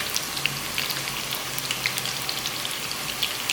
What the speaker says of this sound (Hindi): हमारा ऑयल गर्म हो गया, हमें इस लच्छेदार प्याज इसको खोल कर डालते हैं इसके अंदर